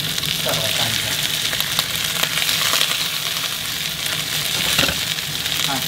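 Freshly flipped crucian carp fries in a hot pan, a dense, even sizzle running throughout with scattered sharper pops and spatters, close-up and steady, no one speaking.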